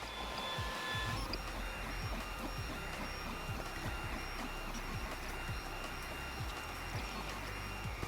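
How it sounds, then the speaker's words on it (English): A 3D printer prints PLA with a constant mechanical whir, buzz and faint stepper whine, steady and close throughout. "So now that it's leveled, let's start the second print."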